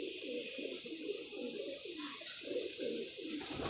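Pigeons coo in a repeating, throaty rhythm of soft rolling calls, close by against a steady background hiss.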